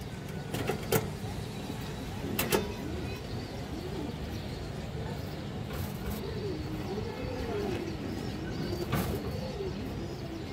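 Repeated soft coos from pigeons in a loft, a silver male among them, run steadily at moderate distance, mixed with a few sharp clicks and low background rumble.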